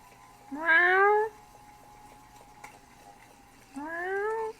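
A house cat meows twice indoors, two clear drawn-out calls separated by a few seconds of quiet room sound.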